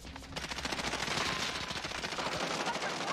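Rapid automatic gunfire in Call of Duty Warzone rattles in a dense, loud burst throughout, with voices talking faintly underneath.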